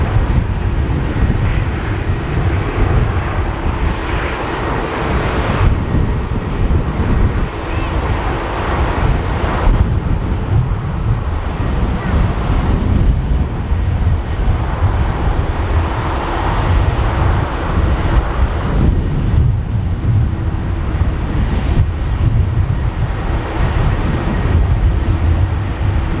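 Strong gusting wind roars across the microphone at Dublin Airport, a steady broadband rush that surges and eases in gusts over nearly half a minute, with a low rumble that may include distant aircraft.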